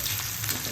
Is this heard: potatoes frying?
yes